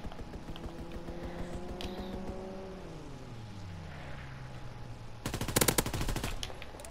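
Gunfire from a strafing run in the video game Call of Duty: WWII, a sudden loud burst of rapid shots arriving after a low aircraft engine drone that descends in pitch, with no talking.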